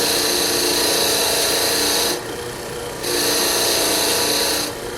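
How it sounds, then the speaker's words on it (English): A bench wire wheel cleans gunk off Toyota Tundra rear brake caliper slider pins, giving a loud, steady, harsh abrasive whir in two bursts with a short dip between as the pin is pulled away. "I'm gonna take my caliper slider pins over to the wire wheel, and I'm gonna clean off all of this gunk"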